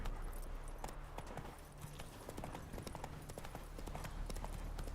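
Roach, a horse in The Witcher 3: Wild Hunt, galloping through Velen, with quick rhythmic hoofbeats thudding in a steady run over low rumbling ambience, close and loud, no voices.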